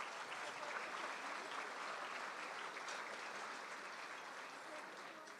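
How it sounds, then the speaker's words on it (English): Applause from a luncheon audience, a dense, even patter of many hands heard from a distance at moderate level, tapering slightly toward the end. "Let's give a hand clap for Mr. Darrell."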